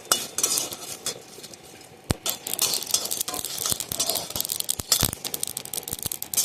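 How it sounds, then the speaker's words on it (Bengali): Whole cumin and coriander seeds fry in a pan with chilli, under a steady close crackle, with repeated sharp clinks and scrapes of a spoon stirring against the metal. No one speaks. "এবার ভালোভাবে ভেজে নেব।"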